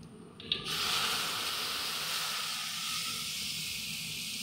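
Ground chili spice paste dropped into a hot pan beside half-wilted greens, bursting into a loud, close, sustained sizzle that holds steady and slightly settles.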